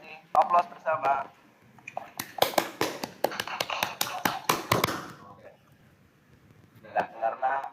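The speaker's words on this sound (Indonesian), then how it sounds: "untuk kelompoknya Pak Anwar dan Bu Fea kita kasih aplaus bersama" A small group claps for a presentation team in a classroom setting, a brief burst of scattered hand claps lasting a few seconds, with a voice talking just before and after.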